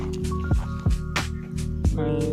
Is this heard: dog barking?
no